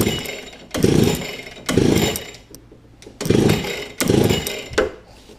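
A small pocket bike engine is pulled over repeatedly, giving four or five loud bursts of buzzing engine noise with short pauses between them, none catching into a steady idle.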